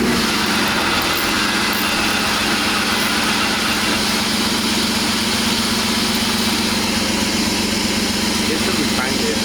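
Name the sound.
BMW E46 3.0 engine idling after motor swap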